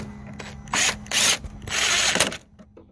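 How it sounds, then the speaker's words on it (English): A 10 mm socket turns a bolt on a Mercedes front grille, with several short bursts of ratcheting and rubbing, close and fairly loud, separated by brief pauses. "you grab a socket 10 mm, you just install that."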